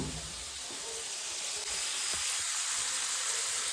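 A vegetable sabzi cooks in a pan with a continuous bright, hissing sizzle throughout, close and steady, without talk.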